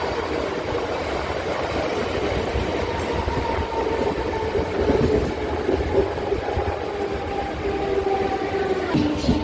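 A Mumbai local train rolls into Byculla station by the yard, making a steady rumbling rattle of wheels and carriages that stays fairly constant throughout with no talk.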